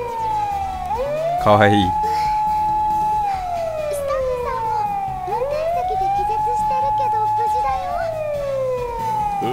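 A loud, wailing emergency siren from the video game Steins;Gate Linear Bounded Phenogram rises and falls in long repeated sweeps, with a brief spoken voice near the start.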